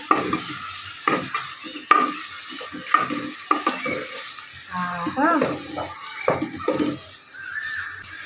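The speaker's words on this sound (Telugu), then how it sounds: "కాకరకాయలు కూడా వేసేసినాక ఇప్పుడు మంచిగా ఇలా కలిపిస్తున్నాం అంటుకోకుండా చిన్న సిమ్లో పెట్టేసి" Bitter gourd pieces fry in a pan over a low flame while being stirred, with repeated sharp spatula scrapes and knocks over a soft background sizzle.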